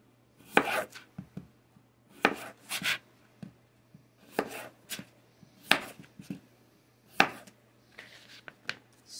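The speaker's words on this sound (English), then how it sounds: "Cubing the potatoes." A knife cubing potatoes on a cutting board, giving sharp, close chopping knocks that come in small clusters of two or three with short pauses between them, with no voices.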